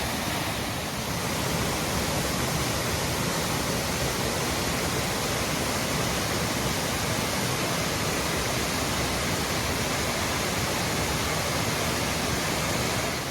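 Janet's Foss waterfall in the Yorkshire Dales pours in a constant, loud, broadband rush of falling water that stays unbroken and even from start to finish, with no voices.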